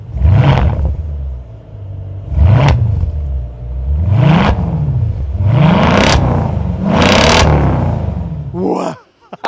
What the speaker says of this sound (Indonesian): naturally aspirated engine yang kalau digas bunyinya seperti